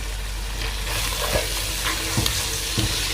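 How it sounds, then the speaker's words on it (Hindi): Tomatoes and green chillies fry with spices in a pan for chicken biryani, a steady close sizzle with occasional stirring scrapes and clinks, no talk. "अभी मैं इसमें टमाटर डालने वाला हूँ। 2 टमाटर थे, जो हरी मिर्च थी वो मैं इसमें डालने वाला हूँ।"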